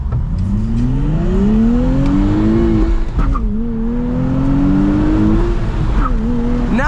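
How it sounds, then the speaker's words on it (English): A 2023 Nissan Z with a manual transmission accelerates hard, the engine note climbing steadily through one gear, a brief dip at a shift, then rising again, loud and close from inside the car. "Let's gun it and see how it accelerates."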